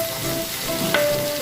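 Masala for an egg fry sizzles in a pan while being stirred and mixed, a continuous close frying hiss with a brief scrape partway through.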